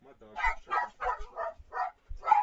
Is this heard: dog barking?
yes